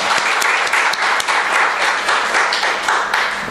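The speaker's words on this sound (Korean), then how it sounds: "박수로 격려하겠습니다" A church congregation applauding the choir, steady loud clapping from many hands that holds evenly throughout without speech.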